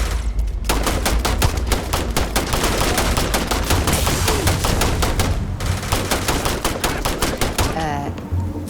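Rapid, continuous automatic gunfire from a firefight in the video game Starfield, loud and near, with bursts running almost without pause and a short break in the middle.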